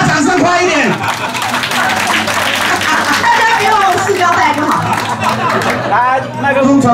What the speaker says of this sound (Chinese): 给他掌声快一点